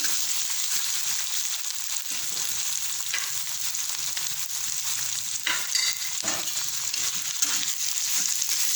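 Grated raw mango and turmeric fry in a pan for raw mango pulihora, giving a steady close sizzle with occasional stirring scrapes and no talk.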